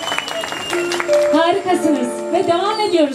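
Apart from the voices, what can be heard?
audience applause at a concert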